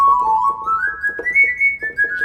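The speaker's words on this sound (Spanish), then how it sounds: "Silbido." A solo whistling sample from a Kontakt instrument library plays a short, clear melodic phrase, the notes stepping upward and then settling, close and bright with nothing else beneath.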